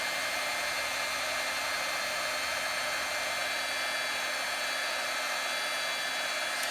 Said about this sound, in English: I've got my old heat gun plugged in over here.